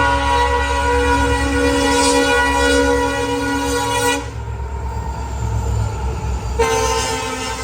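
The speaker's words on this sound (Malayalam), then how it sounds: "ഏതോ ഗുഡ്സ് ട്രെയിൻ ആണെന്ന് തോന്നുന്നു." A long train rolls past a railway station near Jamnagar, a sustained horn blaring over the heavy rumble of wagons, cutting off and then sounding again briefly.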